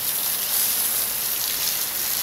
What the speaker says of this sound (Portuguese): Tá baixa chuva aqui assim,